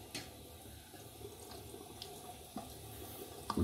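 A bathroom tap runs into a sink during rinsing after a shave, a soft steady stream of water with small splashes and clinks, quiet and close.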